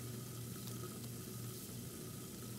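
A faucet pours steadily into a sink during handwashing in the game Tell Me Why, an even, close rushing of water that holds unchanged throughout with no talk.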